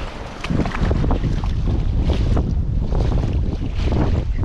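Gusty wind buffets the microphone outdoors on a fishing outing at water's edge in early spring, a steady roaring rush with surging peaks, loud and close, with no talking.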